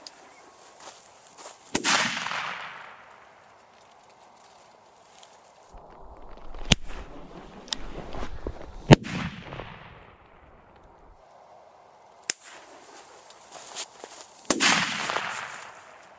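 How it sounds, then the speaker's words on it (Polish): A Lexon blank pistol fires bang flares outdoors: several sharp reports, with loud whooshing launches near the start, middle and end, and a few sharper cracks between them against quiet background. "Normalnie te race hukowe powinny lecieć o wiele dalej."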